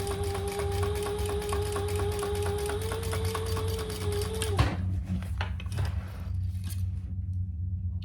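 A sewing machine runs a steady top-stitching seam at one-eighth inch, a fast even whir with a high motor tone for several seconds, then stops with a clunk and quiet handling sounds.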